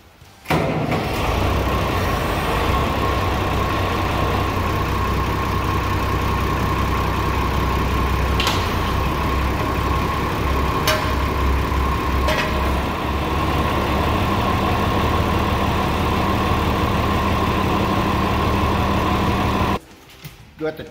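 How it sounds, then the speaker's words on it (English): A Massey Ferguson MF 165 tractor diesel engine idles steadily and close for about twenty seconds, a continuous low rumble with faint knocks, then cuts off abruptly. "Got the tractor in neutral"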